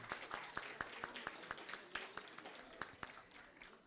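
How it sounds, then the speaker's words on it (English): Scattered audience applause at a Quran competition, sparse hand claps at an uneven rhythm, moderately close but fairly quiet, with a faint murmur of voices underneath. "She deserves another round of applause"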